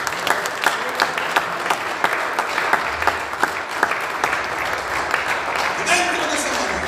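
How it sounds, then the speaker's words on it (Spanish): Congregation applause at a church service, a steady dense clapping from a large crowd filling the room throughout, with a voice heard over it. "Den un aplauso al Señor."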